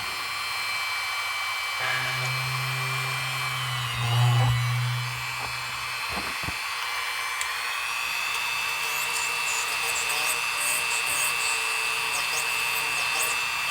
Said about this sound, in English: And I have the Dremel here set on number 4.